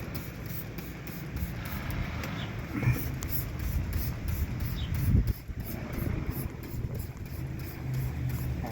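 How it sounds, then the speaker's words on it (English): A continuous hissing spray of soapy water onto a tire runs close by, fairly loud and steady, with faint clunks and shifting noise beneath it. "So just spray the whole tire."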